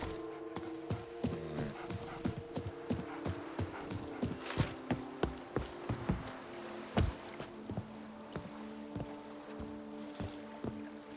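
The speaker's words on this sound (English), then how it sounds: "Even a horse drops if you ride it at a constant gallop." Hooves clop in a quick, steady rhythm at close range as a horse gallops in The Witcher 3: Wild Hunt, with a low sustained tone droning underneath.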